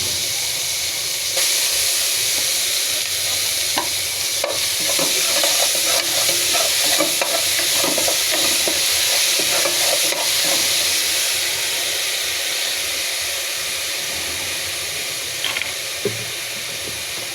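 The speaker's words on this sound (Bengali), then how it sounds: "মাছ ভাজা তেলে আদা রসুন পেঁয়াজের পেস্ট দিয়ে দিচ্ছি।" Ginger, garlic and onion paste sizzles and hisses loudly in hot oil left from frying rohu fish, with steady bubbling and occasional stirring scrapes, close and continuous with no talk.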